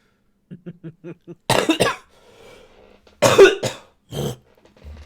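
A few short throat noises, then several harsh, wet coughs in separate bursts, close and loud, with quiet gaps between.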